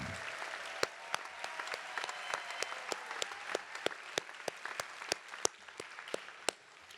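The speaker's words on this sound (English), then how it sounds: "A round of applause for our medical assistant graduates." Applause at a nursing graduation ceremony for medical assistant graduates: a steady, fairly distant crowd patter with a few sharp, louder individual claps spaced through it.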